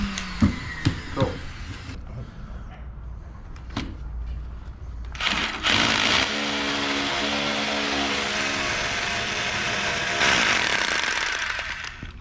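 A few sharp knocks, then a hammer drill grinds loudly into a concrete garage floor, a continuous rattling roar lasting several seconds.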